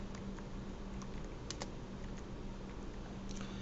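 Keys clatter on a computer keyboard during Java programming, a quiet, quick run of taps with a few sharper strikes over a faint steady hum.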